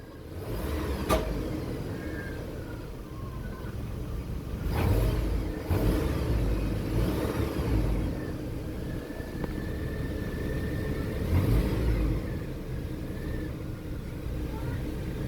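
A 2008 Chevy Colorado engine fresh from a spark plug change turns over and settles into a fairly quiet steady idle with a couple of rev swells, heard from nearby.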